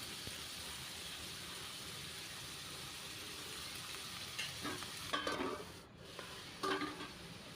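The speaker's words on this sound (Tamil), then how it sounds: "நம்ம இப்போ அந்த காய்கறி அதில் போட்டு தேவைக்கு உப்பு போட்டு ஒரு வதக்கிக்கிடுவோம்" Steady frying sizzle from a pan of vegetables, a continuous hiss with a few stirring scrapes and clinks near the end.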